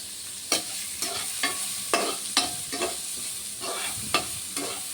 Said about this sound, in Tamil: ஆனியன் வெட்டி வச்சுருக்கோம், அது போட்டுக்கலாம். நல்லா வதக்கி விட்டுக்கலாம்.